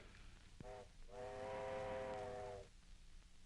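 A steam train whistle in a 1939 Western film sounds from a distance: a short blast, then a longer sustained hoot that fades out over low rumbling background.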